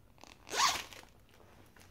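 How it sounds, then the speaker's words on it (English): A zipper on a thrifted bag being pulled open in one quick, close stroke, bright and raspy, followed by quieter rustle with no talking. "And it zips all the way off and open."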